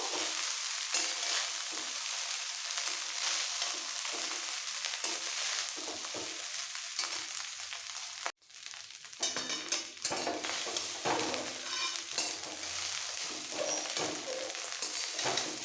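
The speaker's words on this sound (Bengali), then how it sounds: "ঘিয়ের মধ্যে একটু মিক্স করে নেবো" Rice stirred in ghee in a pan for party-style fried rice polao, a steady sizzle with soft scraping strokes throughout, briefly dipping quiet midway before the frying and stirring resume.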